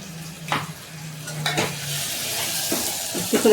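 Cinnamon-clove powder is stirred into mutton cooking in a pan, giving a steady close sizzle with a few sharp utensil scrapes and clinks against the pot, and no talk.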